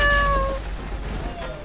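A cat meows twice in modded Left 4 Dead 2, a clear, rising-and-falling meow up front followed by a softer, shorter one near the end, set over steady low game rumble.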